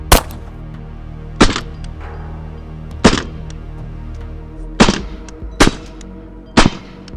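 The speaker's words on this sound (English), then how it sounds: "now we're gonna fire multi-shot engagement with a 230 grain gold dot hollow point" Suppressed .45 ACP pistol firing 230 grain Gold Dot hollow point rounds into soft body armor, six loud, sharp reports in an irregular multi-shot string, each a heavy thump with a short decay, no talking.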